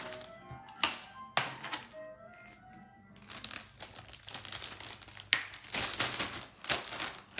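A piece of pork is placed into a plastic bag, giving crinkling and rustling plastic with a few sharp taps and thunks at close range and no speech.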